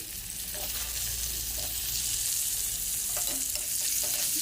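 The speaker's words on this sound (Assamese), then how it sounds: "অলপ ভাজি ল'ম আলুখিনি আমি" Continuous sizzling of potatoes and onions frying in a pan, with occasional scraping stirs against the hiss.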